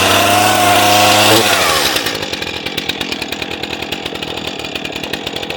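A Stihl chainsaw on choke fires up from a cranking, sputtering start and settles into a loud, steady running idle with a rapid, even engine pulse, close by and with no talk over it.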